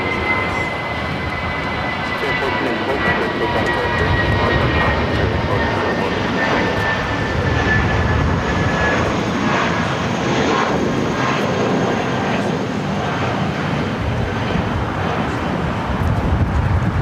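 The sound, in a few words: Airbus A320 jet aircraft, flight to Las Vegas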